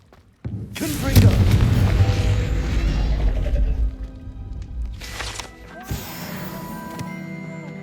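A Confringo blasting spell goes off in Hogwarts Legacy, a loud booming burst that strikes at once and rumbles on for several seconds, with further crackling impacts near the end.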